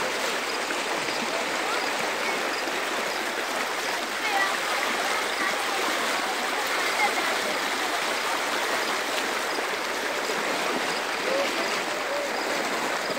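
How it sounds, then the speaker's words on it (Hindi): Floodwater from the swollen Indus River rushes through a submerged village, a steady, dense roaring wash of flowing water that stays constant and close throughout with no clear breaks. "सजो गोठ पानी के लपेट में अची वो"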